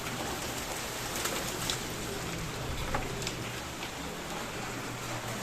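Steady rain mixed with hail pours down with a dense, hissing patter, broken by occasional sharper ticks of hailstones striking a surface, continuous and fairly loud throughout.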